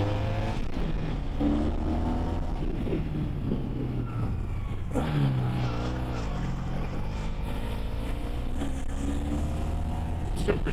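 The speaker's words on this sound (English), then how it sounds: "Engine's nice and quiet. The original exhaust is intact and in excellent condition." A 1986 Honda VF1000R motorcycle engine with its original exhaust runs steadily while riding on steep roads, a continuous low drone with shifting pitch through the whole stretch, partly under speech.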